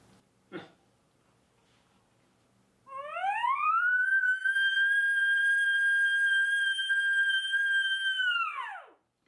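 A bull elk bugle imitated on a latex reed call: a faint breath, then a rising whistle that climbs and holds a long, loud, steady high note before dropping sharply at the end, alone.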